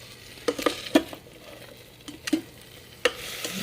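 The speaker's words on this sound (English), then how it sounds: "We're just going to cook it until some of the fat is rendered out of the bacon and until the onions start to soften a little bit" Bacon and onions cooking in an Instant Pot, with a low steady sizzle of frying fat broken by several sharp scraping stirs of a utensil against the pot. Close, no talking.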